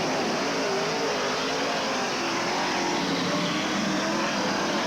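Dirt track race cars roaring around Brownstown Speedway during a 1985 memorial race, a loud, dense wall of engine noise from several cars at once that stays continuous and steady with no break.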